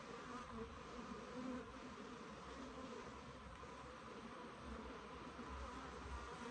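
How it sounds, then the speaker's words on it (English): Honeybees, a Cordovan F2 Italian/Africanized hybrid colony, buzz steadily at the hive in a dense, continuous hum from a busy swarm close by. "these bees are doing quite well"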